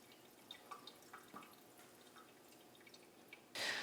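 Faint, irregular drips fall from a faucet that has just been repaired and shut off, each one soft and scattered in a quiet room, followed at the end by a short burst of running water.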